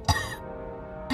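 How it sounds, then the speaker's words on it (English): A video game character coughs in a short, harsh burst, followed by quiet game ambience and then another rough cough starting at the end, close and clear with no talking. "Why are you coughing so much?"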